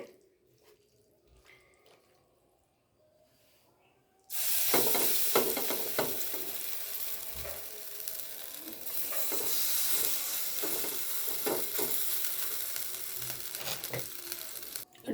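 After a few seconds of near quiet, an okonomiyaki pancake meets a little hot oil in a pan and erupts into a loud, sustained sizzle that crackles on steadily to the end.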